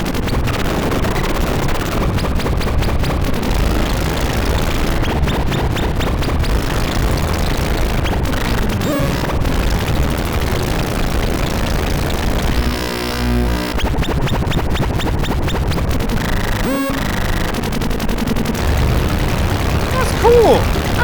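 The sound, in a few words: Arturia MatrixBrute synthesizer harsh noise modulated by LFO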